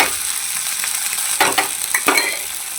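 Cumin and a spice paste fry in a pan with a loud, constant sizzle, broken by a few brief scrapes as a spoon stirs them close by.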